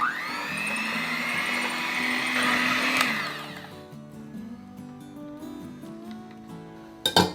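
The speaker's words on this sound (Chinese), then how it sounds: "我们先把粉粒搅拌进去，再借助搅拌机把它拌匀。" A high-pitched electric mixer whirs steadily for a few seconds blending batter for steamed sponge cake, then cuts out, leaving quieter clinks and a short clatter at the end.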